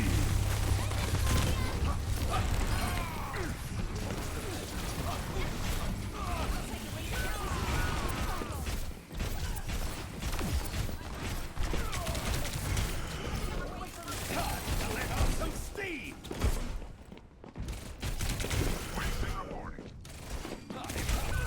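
A turret takes sustained gunfire during an Overwatch 2 Mystery Heroes match on Junkertown, a dense, continuous barrage of shots and impacts that stays loud throughout, with speech over parts of it.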